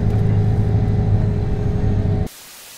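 A 600-horsepower Lancia car rumbles loudly and close with a deep steady engine drone, then cuts off abruptly near the end, leaving only a faint hiss.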